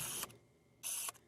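Two short bursts of quiet mechanical whirring from a Canon 50mm f/1.8 lens focus motor, each lasting about a quarter second, separated by a pause.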